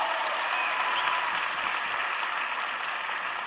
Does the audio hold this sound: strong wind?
no